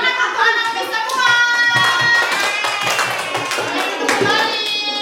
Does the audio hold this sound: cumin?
no